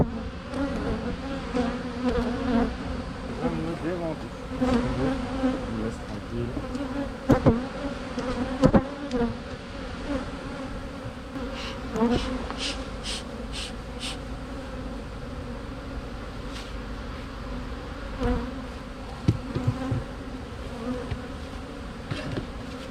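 Agitated honeybees swarm around an opened hive during a honey harvest, a dense continuous buzz lasting throughout with individual bees zipping close by now and then.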